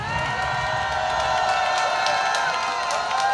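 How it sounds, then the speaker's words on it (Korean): A crowd at an outdoor election-fraud protest rally in front of the presidential office cheers, whoops and applauds steadily and loudly for several seconds, with no talk over it. "500대 1의 전설 조슈아 김임을 박수로 모시겠습니다"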